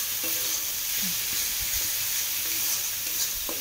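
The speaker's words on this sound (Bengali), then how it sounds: "তেলের মধ্যে মশলাটা দিয়ে দিয়েছি" Spices sizzle steadily in hot oil in a pan, a constant close frying hiss with occasional faint stirring clicks, no voices.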